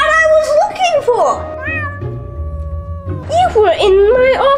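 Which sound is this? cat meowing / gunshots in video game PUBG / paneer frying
cat meowing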